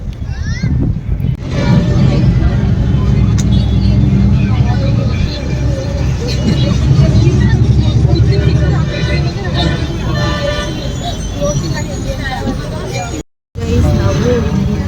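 Auto rickshaw ride through Mysore traffic toward a KSRTC bus stand, a loud continuous engine drone and road rumble close by, with surrounding traffic noise and a brief dropout near the end.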